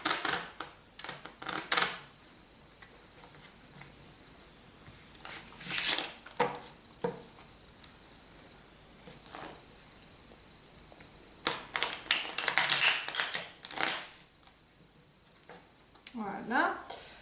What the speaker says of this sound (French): Donc je vais procéder à une série de mélanges. Voilà. Permettant de mélanger les cartes.